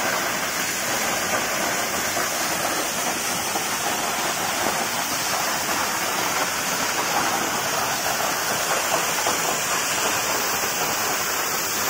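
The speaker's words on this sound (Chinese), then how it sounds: "我们站在瀑布底下" Steady, dense roar of the Paozilun waterfall heard from beneath the falls along a forest trail, a loud, unbroken broadband rush of falling water that stays constant throughout, with no voices.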